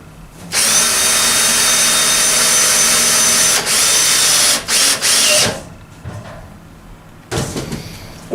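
Loud, continuous whine of a power drill driving screws into a metal air duct while mounting a bipolar ionization unit, about five seconds of steady drilling with brief stops, then a short final burst.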